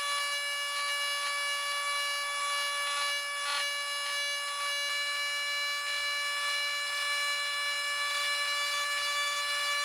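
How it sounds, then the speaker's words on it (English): A Dremel rotary tool cuts a small notch into the plastic casing of a USB cord, giving a steady, high, whining drone that runs unbroken for the whole stretch with slight rubbing variations. "use my Dremel to cut a small little notch in the top of this casing here"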